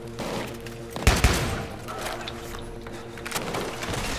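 Automatic weapon fire bursts in a co-op shooter video game, with a loud cluster of shots around the middle over a steady background of game ambience and scattered smaller shots.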